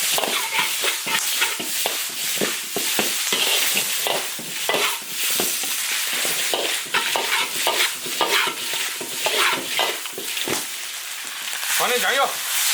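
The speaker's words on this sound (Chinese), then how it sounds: "炒香，炒出红油，然后下猪心" Pig heart stir-fried in a wok with ginger, garlic, chili paste and dried chilies: loud continuous sizzling with repeated scraping and clanking of a spatula against the wok, close up.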